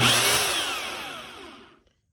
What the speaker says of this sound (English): if I pull the trigger, the drill bit will go at full